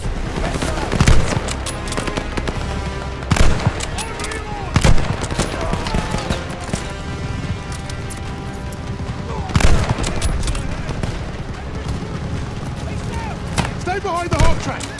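Machine gun fire rattles through a Call of Duty Vanguard battle at Merville, France, with repeated bursts and heavy booms amid constant combat din, as soldiers shout orders over the noise.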